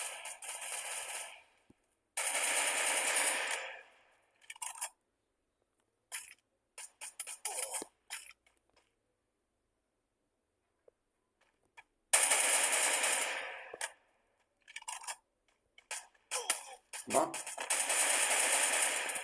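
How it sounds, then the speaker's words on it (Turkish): Gunfire in the Free Fire mobile battle game: repeated bursts of rapid automatic shots, some long and some clipped short, separated by silent gaps, with a voice speaking at times. "Ya arkada birisi var bana sıkıyor."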